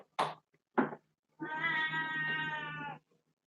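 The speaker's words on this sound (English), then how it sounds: "I'm gonna go feed the kitty." A hungry house cat gives two short, quiet mews followed by one long, drawn-out meow lasting over a second, close and clear in a quiet room.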